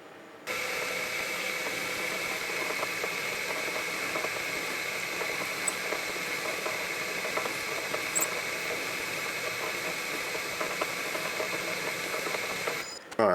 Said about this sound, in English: I've drilled a 7/64 hole